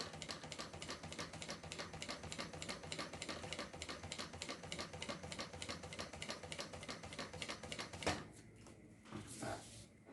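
A sewing machine runs steadily along the edge of a zippered notebook cover, a rapid even rattle of stitches for about eight seconds, then it stops and a few soft handling bumps follow.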